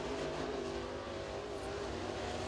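A crate late model race car with a Platinum race engine on a dirt track during qualifying at Crossville, a sustained, droning engine roar heard from a distance, steady and unbroken with no sharp peaks.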